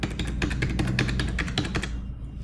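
Rapid, close keyboard clicks as a phone number is typed on a computer keyboard while filling in an online UAE tourist visa application, a steady burst of taps with no talking.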